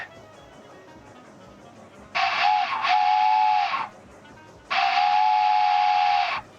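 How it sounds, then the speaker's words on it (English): A steam train whistle in the video game Broken Sword: The Shadow of the Templars Reforged gives two long, loud, steady blasts separated by a short pause, over a quiet background with no talking. "a train whistle does nothing"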